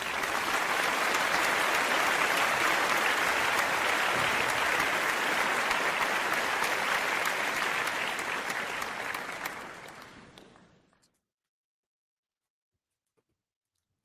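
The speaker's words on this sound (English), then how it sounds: "So give yourselves an applause." Loud, sustained applause from a crowd, a thick steady roar of clapping that holds for about nine seconds, then fades quickly and stops, leaving near silence.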